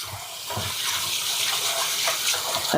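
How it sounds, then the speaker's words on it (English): Water swishes and pours steadily as rice is rinsed and the starchy water is tipped off, close and continuous with small splashes. "So I'm just washing my rice because what I am going to do now, so you see I'm pouring off that starch."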